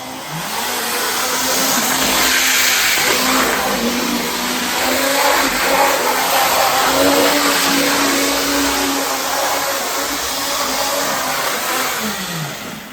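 A steady, loud motorized whir of a Union Pacific Big 3 model train at full speed drones on for several seconds with a faint rising and falling pitch, like a small electric motor running flat out.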